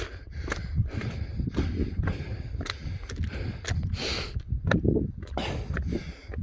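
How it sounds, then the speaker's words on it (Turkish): Heavy, labored breathing of a cyclist at the summit of Mount Nemrut after the climb, with repeated loud gasps and sharp exhales close to the microphone, plus some rustling, and no talk. "Nefes almakta zorlanıyorum."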